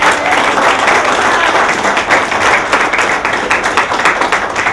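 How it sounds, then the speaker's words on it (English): Sustained, dense applause from an audience at a Culture Connection 2015 event, loud and steady throughout with many overlapping claps and no break. "Give Culture Connections a big round of applause."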